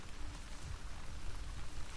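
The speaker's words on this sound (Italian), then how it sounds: "in realtà sta piovendo" Steady rain falls in The Last of Us Part II as a soft, even wash of drops that stays faint and constant for the whole stretch, with no other sounds over it.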